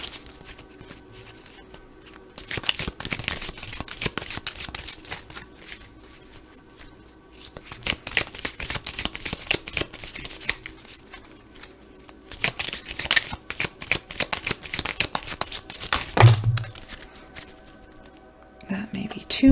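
Tarot cards shuffled in bursts of crisp riffling and soft slapping, with several rapid flurries separated by quieter pauses, close and clear, with a brief low thump near the end.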